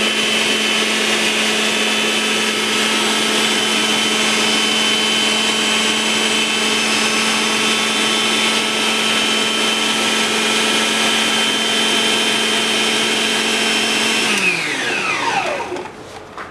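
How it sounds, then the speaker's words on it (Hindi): A food processor runs at its lowest speed while kneading atta dough, a steady close motor whine with a low hum that holds evenly, then spins down and slows near the end. "उसके बाद हम इसकी स्पीड जो है 1 पर ही, स्टार्टिंग वाले पॉइंट पर ही हम इसकी स्पीड को रखेंगे नॉर्मल।"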